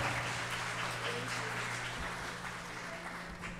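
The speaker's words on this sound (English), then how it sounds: "Go ahead and give them another round of applause" An audience at a Golf School District winter school chorus concert applauds, a faint, steady wash of many hands clapping over a low electrical hum, tapering slightly toward the end.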